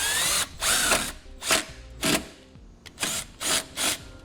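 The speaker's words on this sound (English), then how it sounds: "We'll just use a self-tapping screw. And we'll go ahead and start that through." A power drill drives a self-tapping screw for a ground wire during a towed-vehicle fuse bypass switch install, whirring in about eight short, close, evenly spaced bursts.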